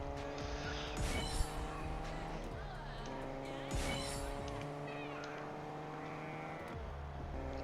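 Cars racing in a Fortnite Creative race built in the v16.20 update, steady droning engine tones throughout, with brief rising whooshes of cars passing and tire-squeal bursts around one and four seconds.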